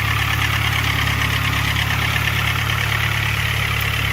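Turbocharged Mitsubishi Eclipse with a 420A engine running at 8 psi boost, a steady loud idle with a constant low rumble and a faint ticking that could be lifter or valvetrain noise, heard alone with no talking.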